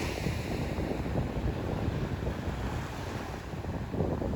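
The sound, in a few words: ocean waves and wind at Cape Henlopen beach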